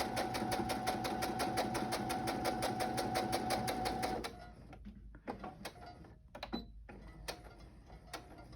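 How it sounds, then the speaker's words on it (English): A sewing machine stitches across fabric in a fast, even, rhythmic clatter for about four seconds, then stops, leaving quiet handling noises and soft clicks. "I'm just going to do a quick stitch across, and then I'll glue the lace down."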